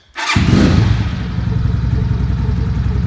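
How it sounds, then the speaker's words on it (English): An x22R motorbike engine cranks and catches after a brief silence, then settles into a loud, steady close-up idle with a fast, even putter and some mechanical clatter. "Let's go ahead and get the bike started."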